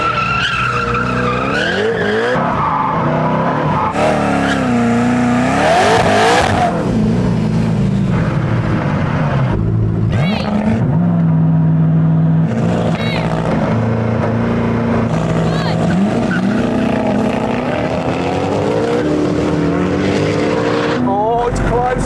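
Koenigsegg Regera and Agera hypercars launch and race, their engines roaring loud and close with rising and falling revs, squealing tires and skids, under a continuous blend of talk.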